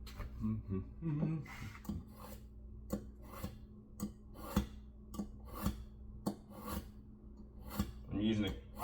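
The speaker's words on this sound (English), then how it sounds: "I'm using the crock side of this just to kind of clean the blade up a little bit" A kitchen knife blade is honed on the side of a ceramic crock stick, about a dozen near, steady rasping strokes in an even back-and-forth rhythm.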